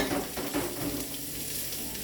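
Onions sizzle and crackle as they are stirred in a hot pan, a steady close frying hiss with brief stirring scrapes and no talking.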